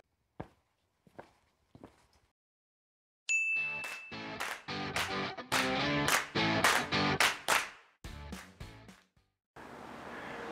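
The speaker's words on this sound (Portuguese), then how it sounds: "Roda a vinheta!" Channel intro jingle: a few soft clicks, then a bright ding and a quick, punchy sequence of rhythmic percussive hits and tones, ending in a short burst of noise.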